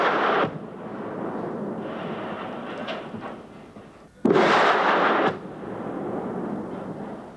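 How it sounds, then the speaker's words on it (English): Heavy artillery-style fire from rocket launchers and tanks pounds a besieged parliament building during fighting to unseat a president, with a sustained rumbling barrage, a sharp heavy blast near the start and a louder burst midway. "with rocket launchers and tanks now pounding it to pieces."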